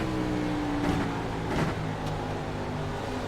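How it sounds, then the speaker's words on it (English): A race car at Richmond in a SOMO Series event gets back on the throttle out of turn 1, its engine note rising steadily over a few seconds, moderately distant and alone. "Hear how long they're off the throttle, letting the car do the work, rotate through the turn,"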